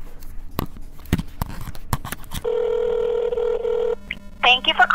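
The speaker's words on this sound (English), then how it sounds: "let's go ahead and call them right now on my handy dandy phone" Touch-tone dialing on a handheld phone: a run of short keypad beeps, then one long steady tone held for a second and a half, followed by another quick burst of tones, all fairly close and clear.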